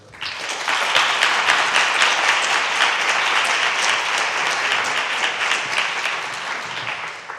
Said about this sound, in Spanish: les pido un aplauso de bienvenida